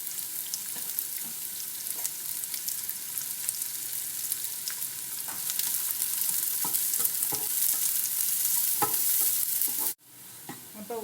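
Chopped small shallots fry in hot oil in a pan, giving a continuous bright sizzle with occasional stirring scrapes that swells slightly before cutting off abruptly near the end.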